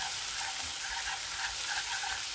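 Garlic, lemongrass and minced chili fry in a pan for lemongrass-chili pork, a dense, steady hot-oil sizzle with faint stirring, close and continuous without any talking.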